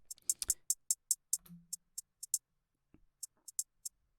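Programmed hi-hat in Bitwig Studio at a raised level, a quick run of bright, crisp ticks followed by a sparser pattern, close and clear with a faint low hum in one spot.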